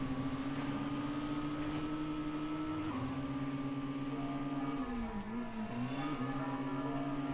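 Car engine in the video game Midnight Club 2 drones steadily as the car drives, with a sustained tone that dips and shifts briefly near the end, loud and continuous with no talk.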